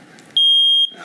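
A single loud, steady electronic smoke-alarm beep, about half a second long, cuts in sharply and stops, set between stretches of quieter background sound.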